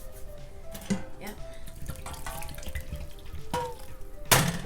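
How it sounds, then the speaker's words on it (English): Water runs into a pot of homemade turkey soup with a faint tap-like stream, scattered drips and clinks, and a louder splash near the end. "I'm going to add some more water to the soup."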